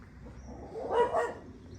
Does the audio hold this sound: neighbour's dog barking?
yes